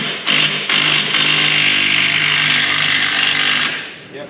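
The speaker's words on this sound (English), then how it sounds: "we're gonna pop this nut off, and this drive should drop right out" A power tool loosens a nut on the stern drive of a 1985 Chris Craft speed boat in a long, loud, steady whine, with brief stutters near the start, then it winds down, close up.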